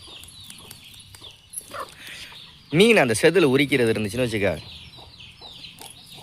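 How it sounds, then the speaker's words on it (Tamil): A chicken clucks close by in a busy outdoor setting during fish cleaning, a loud burst of rising and falling clucks in the middle amid quieter background bird calls, with a person talking nearby. "இப்போ எப்படான்னு வெயிட் பண்ணிக்கிட்டு இருக்கு கோழி."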